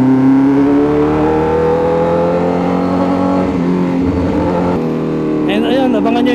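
Honda CBR1000RR-R Fireblade SP sport bike engine with an Overdrive Moto remap, holding a loud, steady high rev close by for several seconds with a buzzy harmonic drone, while a voice talks over it.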